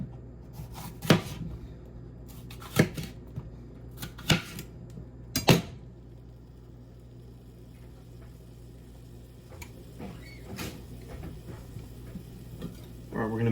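An onion being sliced with a knife, four crisp cuts spaced roughly a second or more apart, close and clear, followed by quieter handling and scattered light taps.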